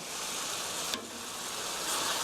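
Mushroom japchae with vegetables, seasoned with sesame oil and ground black pepper, sizzles steadily in a hot pan while being stirred, a close, even frying hiss with one brief scrape partway through and no talking.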